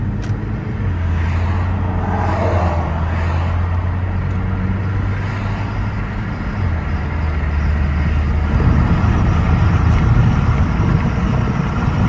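A Saab 9-3 fitted with a new engine and transmission drives under full turbo boost, giving a loud, continuous engine drone inside the car, with the tone shifting partway through, likely at a gear change.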